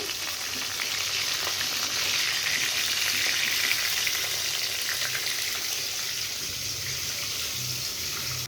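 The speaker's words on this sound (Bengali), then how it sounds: "মাছগুলোকে উল্টে দিয়েছি মাছগুলো ভাজা হয়ে গেছে এবার তুলে নেব" Fish frying in oil in a pan: a loud, steady, unbroken sizzle with no voices.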